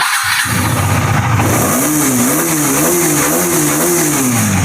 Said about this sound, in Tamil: வண்டி ஸ்டார்ட் பண்ணுறேன். பீட் பாருங்கள்.